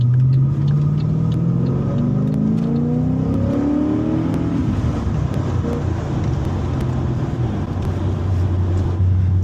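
HSV VE Maloo R8 ute with a 6.2 litre V8 making over 300 kilowatts, driven on the road from Townsville to Mackay: a loud, steady engine drone heard from inside the cab, its pitch climbing as it accelerates and then settling into a cruise, with no talk.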